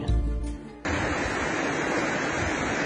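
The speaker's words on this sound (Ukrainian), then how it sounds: "Послухаємо шум річки." A river rushes steadily on the grounds of a sanatorium, a continuous close broadband roar that takes over after a brief different sound at the start and holds evenly to the end.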